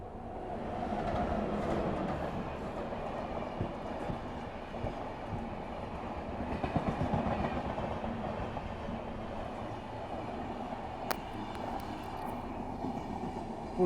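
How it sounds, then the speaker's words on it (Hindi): The Purnia Court–Anand Vihar Express runs steadily in a continuous low rumble of wheels and carriages, loud and close, with faint clattering and no talking. "पूर्णिया कोट आनंद विहार एक्सप्रेस है ये।"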